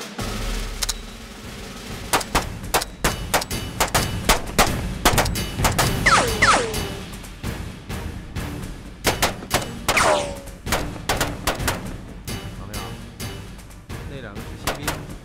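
Gunfire during a rapid-fire shooting drill in a kung fu action film, with a fast, irregular string of sharp, loud shots, some in quick bursts, together with a few ringing whines and a voice shouting between them.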